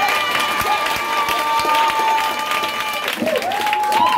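A church congregation at a worship service claps steadily and cheers, the applause continuous and fairly loud under a person speaking and sustained musical tones.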